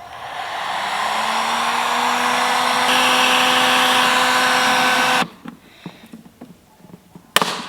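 A heat gun blows steadily and loudly onto a car headlight being tinted, a constant whooshing whine that cuts off abruptly, followed by faint handling noises and a sharp click.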